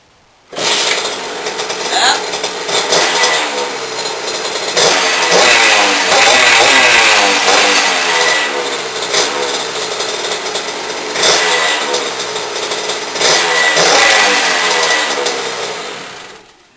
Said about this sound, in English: Our JD KX80 after a couple weeks of work. Everything's back together. We're going to see if it'll run.